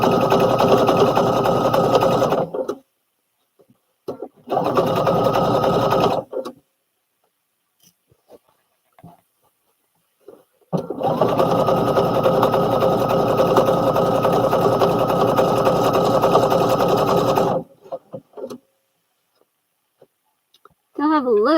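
Sewing machine stitching a garment from Butterick pattern B5572: a loud, steady mechanical whir in three runs, the longest about seven seconds, with faint clicks and handling noises in the pauses.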